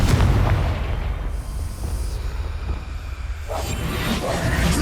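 A Confringo spell explosion in Hogwarts Legacy: a loud, close boom that opens the moment, followed by a rumbling, whooshing decay and then a second swelling surge of noise.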